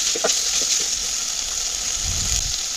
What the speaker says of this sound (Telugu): 1 టేబుల్ స్పూన్ అల్లం వెల్లుల్లి పేస్ట్ వేసి అల్లం వెల్లుల్లి పేస్ట్ పచ్చి వాసన పోయే వరకు బాగా వేయించుకోవాలి